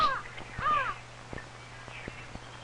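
Crows cawing, a few harsh calls near the start followed by scattered sharp clicks and knocks, heard against a faint steady hum of an old 1950s film soundtrack.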